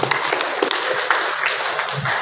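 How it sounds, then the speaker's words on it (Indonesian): Audience applause at a book launch and thanksgiving gathering in a library, a brief dense burst of clapping from a room full of people. "Tepuk tangan untuk beliau."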